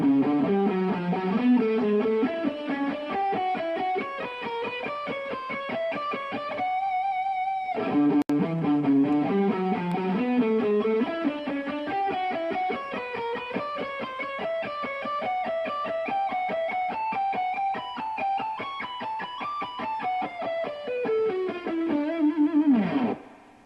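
Electric guitar with distortion and effects plays a jazz riff slowly, a steady run of single notes with one brief pause near the middle, loud and alone throughout.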